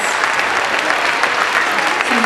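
Sustained applause from an audience after a student holiday concert performance, a steady dense clapping that fills the hall from start to finish, loud and continuous.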